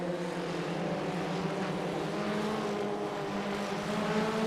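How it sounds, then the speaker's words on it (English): Formula Ford FF1600 race cars in a sim-racing eSeries roar together as the field accelerates, a steady layered engine drone with overlapping tones that holds at a loud, even level throughout. "they'll all jump on the loud pedal straight away here in the Ray Racing Cars FF 1600"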